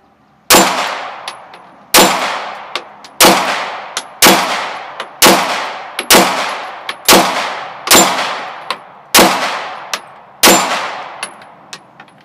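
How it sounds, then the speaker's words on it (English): Ten loud unsuppressed shots from a Canik TP9 SF pistol fitted with a threaded extended barrel, fired alone at a slow even pace about one per second, each sharp crack ringing off briefly. "I'll just test fire this extended barrel without a suppressor on to make sure it's functioning well"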